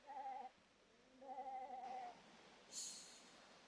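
Sheep bleat in the Agatha Christie: The ABC Murders video game, two wavering cries close together followed by a brief higher chime, faint and alone.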